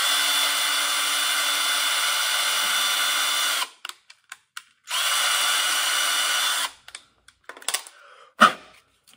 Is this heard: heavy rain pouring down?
no